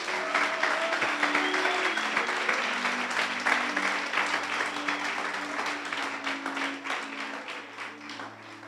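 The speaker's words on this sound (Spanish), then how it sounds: "Hala, por favor, aplauda al Señor." Congregation applauding in a church, a dense sustained wash of many hands clapping with a faint organ or keyboard tone holding beneath, steady and full throughout before easing slightly toward the end.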